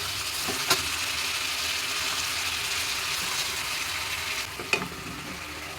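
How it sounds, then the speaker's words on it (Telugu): Half a kilo of washed chicken going into a pan for a chicken curry, giving a steady broadband sizzle with a couple of sharp clinks or splashes near the start and end, no talking. "ఇప్పుడు ఒక అర కేజీ చికెన్ని బాగా కడిగేసుకొని ఇందులో వేసేసుకోవాలా"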